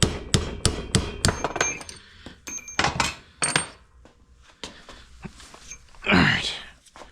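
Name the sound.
hammering an extension to tap out a Vespa pivot pin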